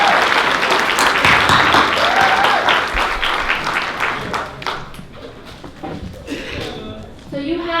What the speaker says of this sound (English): Let's give a round of applause to Mohammed and Rueda Hussein, our two MCs for today.